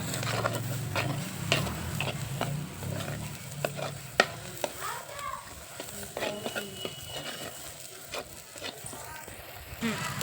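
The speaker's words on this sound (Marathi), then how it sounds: "तर छान असं आधी वाटण परतून घेणार आपण" Masala paste for chicken sautéed in a clay pot, with a soft sizzle and repeated scraping stir strokes close up, a few sharper clicks in between.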